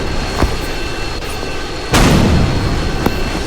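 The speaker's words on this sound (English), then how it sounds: "We get an issue and 2 engine explosions." Loud booming blasts from aircraft engine explosions in a Roblox plane crash game, with two sharp impacts over a constant roaring rumble and a heavier sustained blast partway through.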